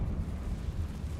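A Confringo blasting spell explodes in the video game Hogwarts Legacy, giving a steady, deep, rumbling roar that holds at an even loudness without a clear single bang.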